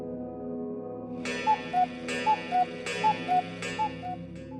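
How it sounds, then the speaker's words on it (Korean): A cuckoo clock sounds in an eerie horror radio drama, striking four times in a steady rhythm. Each strike pairs a bright chime with a two-note cuckoo call, close and clear over a low, quiet bed. "뻐꾸기 시계가 우는 소리가 들려왔다."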